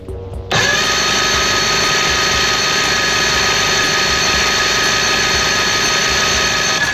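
A 1986 Johnson 90hp SPL outboard engine runs at wide open throttle with a modified carburetor, roaring loud and steady after a sudden rise from a quieter idle, with a high whine sustained throughout.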